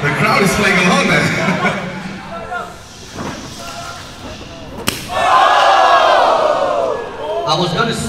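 A wrestling crowd at a MYPW match shouts and yells along in loud waves, with a sharp slam near the middle, while a commentator talks over the noise.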